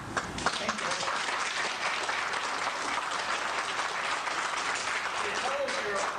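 Dense, sustained applause from an audience at a candidate debate forum, a loud continuous wash of many clapping hands holding steady throughout.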